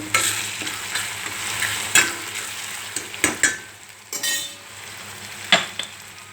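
Onion and tomato pieces are stirred in a pan for an egg curry, with a steady sizzle and scraping, clinking strokes of a spoon against the pan recurring every second or so, close and with no talk.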